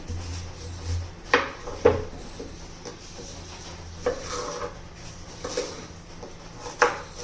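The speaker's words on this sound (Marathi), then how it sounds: "तर काकडी काय करणार आहोत आपण, प्रथम चिरून घेणार आहोत" A knife chopping an unpeeled cucumber for cucumber dosa: a handful of faint, irregular taps against a board, spaced a second or more apart over a quiet background.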